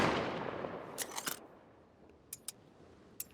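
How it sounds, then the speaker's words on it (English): Bolt-action sniper rifle in the video game Rust, heard as several sharp, distant cracks spread across the moment, with quieter metallic clicks in between and no talk. "And that's just the rifle. That's your sniper rifle. It's bolt action."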